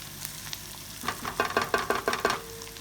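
Onions and garlic frying in a pan for a spinach kofta rogan josh sauce, a steady sizzle with a few louder stirring clatters in the middle, close and alone.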